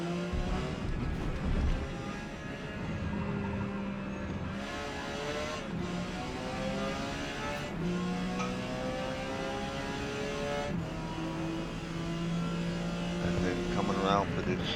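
Porsche 956 prototype race car in Forza Motorsport at Hakone Grand Prix Circuit, its engine droning loud and close, pitch climbing through gears with repeated upshift dips as it powers down a curving straight.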